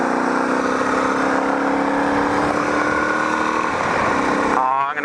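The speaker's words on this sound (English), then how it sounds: "We'll twist that throttle and get her through her." A motorcycle out touring on torn-up town roads, its throttle twisted open so the engine climbs in a steady, loud rising whine that keeps building across the clip, heard close up from the rider's position.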